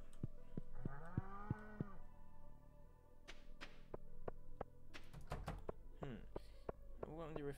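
A cow in Stardew Valley gives a single clear moo near the start, followed by assorted game clicks and thunks, with quiet background tones.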